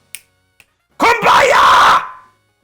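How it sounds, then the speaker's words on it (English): Two sharp, quick finger snaps stand apart near the start. A man then lets out a long, loud sung yell. "I just have to snap my fingers and yell Kumbaya at the top of my lungs"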